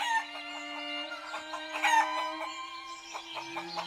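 Chickens cluck steadily inside a village coop, several birds overlapping in busy, fairly close calls, with a brief louder squawk near the middle and a steady low hum running underneath.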